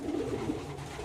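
A champion-pedigree racing pigeon coos softly, a few low murmuring notes close by and faint, with no talking.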